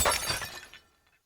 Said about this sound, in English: the beautiful white Italian plate fell from the wall where it was hanging and smashed to the floor